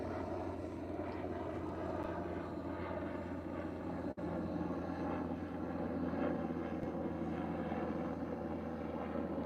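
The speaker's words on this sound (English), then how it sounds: "Coast Guard chopper overhead." A Coast Guard helicopter passes overhead at a beach, making a faint, continuous rotor and engine rumble that holds steady in the distance, with no speech.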